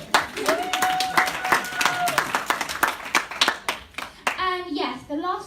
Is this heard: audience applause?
yes